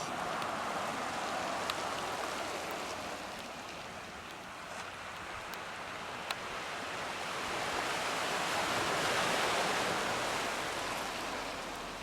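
Ocean swells wash in at Jordan River point, a steady, broad surf roar that swells slightly louder toward the end, heard alone at a moderate distance.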